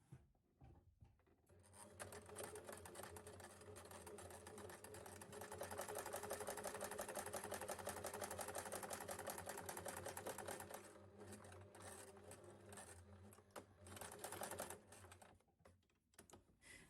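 A sewing machine runs steadily, stitching close along the curved edge of scrap fabric for a beginner's purse, with a fast mechanical rattle that swells and eases over several seconds and then stops and restarts briefly.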